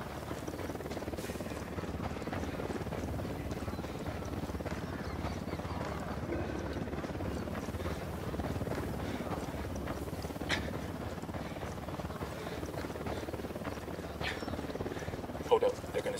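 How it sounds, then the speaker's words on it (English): A helicopter in the Ghost Recon Wildlands video game approaches as a steady low rotor rumble under game audio, holding constant for the whole stretch with a brief louder blip near the end. "Chopper incoming."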